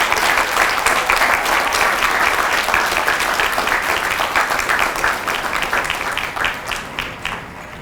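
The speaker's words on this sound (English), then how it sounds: "please join me in a round of applause for the company staff of Company F." Applause at a Fox Company military graduation ceremony honoring the company staff, a dense, steady clapping from a large audience that slowly thins and fades toward the end.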